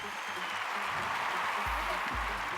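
An audience at a Malayalam film event bursts into clapping, a dense, steady applause heard at a moderate distance, with voices faint beneath it.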